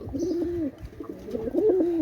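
Pakistani teddy pigeons coo in low, rolling, repeated phrases, close by and fairly loud, with no talking.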